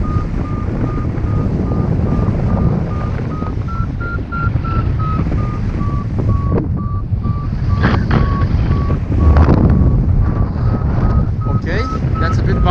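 A paragliding variometer beeps in flight during a cross-country flight, sounding a steady series of short, evenly spaced tones over loud, rushing wind noise.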